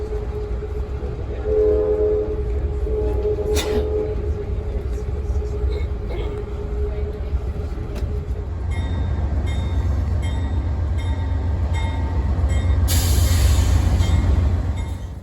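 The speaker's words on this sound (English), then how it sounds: "I ran into my big best friend, the auto train, again, unloading at its northern terminus in Lorton" An Amtrak Auto Train unloads at its northern terminus in Lorton, with steady low rail rumble and wagon noise, a horn-like tone early on and brighter metallic screeching and squealing near the end.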